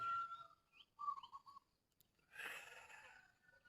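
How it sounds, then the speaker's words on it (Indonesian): Faint whistled bird calls, a few short rising and falling notes, followed by a brief breathy rush of sound on a quiet rural morning. "Suara burung cukuk cukuk cukuk."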